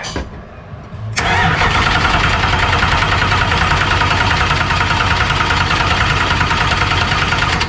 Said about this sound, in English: So first thing I always like to do is prime up the oil pressure.